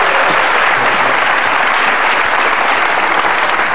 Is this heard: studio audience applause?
yes